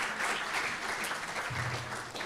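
Audience applause at a university book launch, a steady wash of clapping from a seated crowd filling the short moment, with a low voice briefly murmuring near the end.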